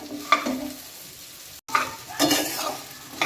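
Okra with spices and mango powder stirred in a hot pan, with a soft sizzle under scraping strokes of a spoon, a brief break midway, then more stirring.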